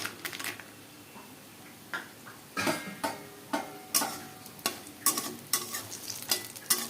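Bori lentil dumplings frying in hot oil in a pan, a steady low sizzle broken by a quick run of sharp clacking stirs and scrapes of a utensil, close and quiet, with no one speaking.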